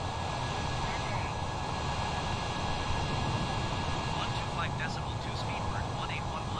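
An airliner on approach to Miami airport drones steadily with constant jet engine noise, heard at a distance under faint radio chatter.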